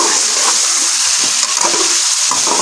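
Half a kilo of chicken frying in ghee in a karahi gives a dense, loud, continuous sizzle with a few faint stirring scrapes, heard up close for a couple of seconds with nobody talking.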